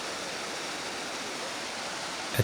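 Historic 300-year-old water features cascade in Kassel Wilhelmshöhe mountain park, a steady broadband rush of falling water with no break, ending in a brief sharp knock.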